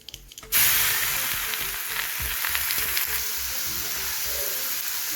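Grated carrots hit hot oil with bay leaf for carrot halwa, setting off a sudden loud, steady sizzle that keeps hissing evenly after a brief clatter at the start.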